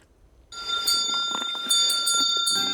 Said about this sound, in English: Hank, the bell-ringing horse, is back out collecting donations for the Salvation Army